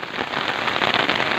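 Heavy rain pours steadily and loudly in a dense, even hiss of drops striking surfaces, with no voices over it.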